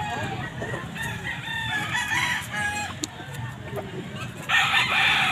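A young stag rooster crows at a busy pet market in San Jose del Monte, Bulacan, with several cock-a-doodle-doo calls and clucks from nearby fowl over a steady crowd murmur.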